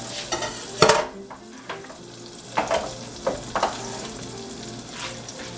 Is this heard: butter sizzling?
yes